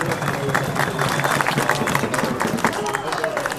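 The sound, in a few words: audience applause after a weapons demonstration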